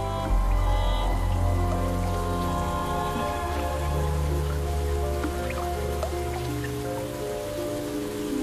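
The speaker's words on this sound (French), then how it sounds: "la pluie a remplacé les chutes de neige" Spring rain falling in a forest, a steady dense patter of drops dripping onto leaves and surfaces, continuous and close, with no voices.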